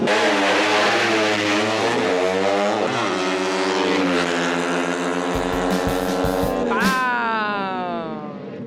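Loud, continuous engine revving from modified exhaust pipes and engines at a street drag race in Pampanga, with rising and falling harmonic whines as vehicles accelerate, a deep rumble joining midway before fading near the end.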